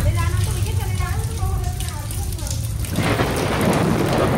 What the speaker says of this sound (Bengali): প্রথমবার বৃন্দাবনে শিলাবৃষ্টি হচ্ছে